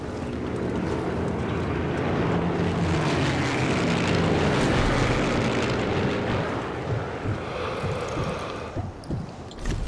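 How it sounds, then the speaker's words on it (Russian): Propeller airplanes drone past overhead in Sniper Elite 3, a broad, loud engine roar that swells to a peak and then thins out as the planes move away, with scattered clatter near the end. "Блин, а самолетики-то летают"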